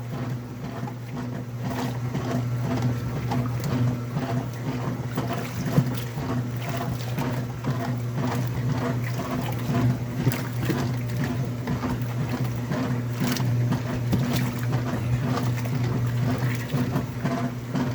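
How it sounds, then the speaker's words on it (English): Laundry is sloshed and agitated by hand in water inside a Kenmore Series 90 washing machine whose agitator will not turn. The sound is a continuous, close churning and splashing with a steady low hum underneath, and no speech. "I have to be the washing machine. I have to do the agitating."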